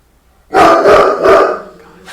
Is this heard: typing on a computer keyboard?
no